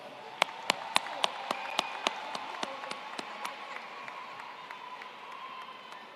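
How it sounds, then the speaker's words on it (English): Audience applauding graduates at a fall commencement, a broad crowd clapping over several seconds with a run of sharp, loud nearby claps that stand out early and then fade into the softer general applause. "let's give another round of applause to all these graduates"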